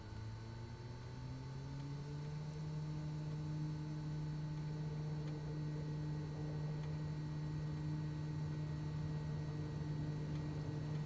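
Kodiak 100 single-engine turboprop powering up for takeoff in Microsoft Flight Simulator, a steady loud drone with a low tone that rises in pitch over the first second and then holds, continuous throughout with no voices.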